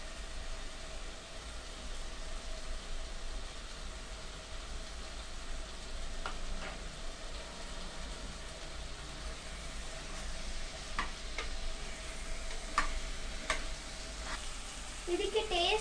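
A ladle scrapes now and then through pepper chicken fry sizzling steadily in a pan, a continuous close hiss with faint clinks throughout and a voice briefly at the end.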